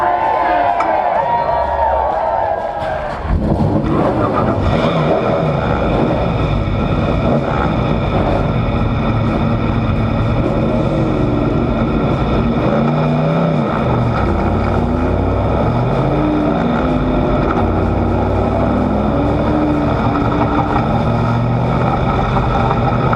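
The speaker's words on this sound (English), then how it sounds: "as we hear the engines fire." Race car engines fire up together at Berlin Raceway, a loud, dense, continuous roar close by with shifting revs, accompanied by the murmur of a crowd.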